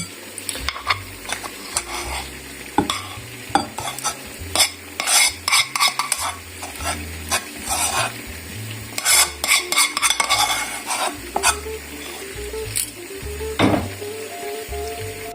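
A spoon stirs rice and a spiced filling in a heavy roasting dish, with repeated scraping and clinking of metal against the pan, lively and close, with a soft sizzle underneath.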